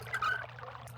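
Water pumped through machinery in the Myst video game, a short close pouring and trickling rush with a low steady hum underneath, lasting about a second.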